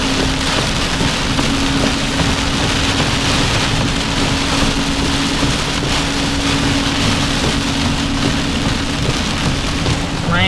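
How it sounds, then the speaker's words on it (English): Heavy rain pours steadily outdoors during a storm, a loud continuous hiss and patter filling the whole stretch without pause, no voices. "every day it rains like this now"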